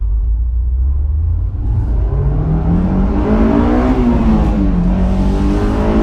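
A Honda S2000 with a manual gearbox accelerates hard, its engine note climbing, dropping briefly at a quick gear change, then climbing again as it pulls through the gears, loud and close.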